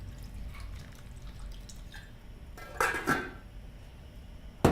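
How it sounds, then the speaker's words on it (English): White wine splashes into a pot of opening clams in a short burst midway through, over a quiet simmering background, followed by a small metallic clink at the end; no one speaks. "I'm going to add some white wine, and it's going to cook within the clam's own broth."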